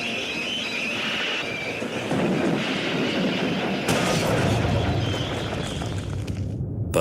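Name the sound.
steam locomotive braking hard, train wheels squealing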